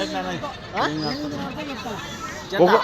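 Goats bleat repeatedly at a goat and sheep livestock market yard in Kadiri, with several wavering, nasal cries close by, the loudest burst at the end, over a busy market background.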